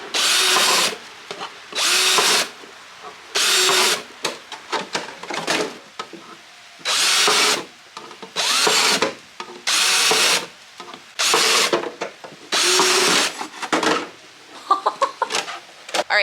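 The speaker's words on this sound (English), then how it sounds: "set up a drill that I could use to make holes in the bottom" Repeated short bursts of a power drill with a 1/4 inch spade bit boring holes, about a dozen spurts with brief pauses between, close and fairly loud.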